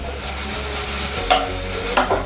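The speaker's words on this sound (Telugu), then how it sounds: "ఇది మంచిగా లైట్ బ్రౌన్ అంటే ముక్కు ఉడికే వరకు మంచిగా షాలో ఫ్రై చేసుకోవాలి" Chicken pieces shallow frying in a pan, with a steady close sizzle throughout and a couple of brief scraping stirs.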